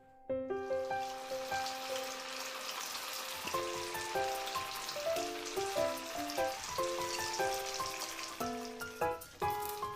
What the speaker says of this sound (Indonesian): Selanjutnya saya goreng pempek.